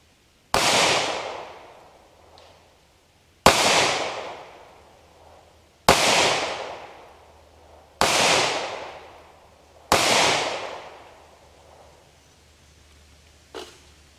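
A Ruger SP101 .357 Magnum revolver fires .38 caliber copper plated bullets: five loud, sharp shots spaced about two to three seconds apart, each with a decaying outdoor tail, then a fainter click or pop near the end.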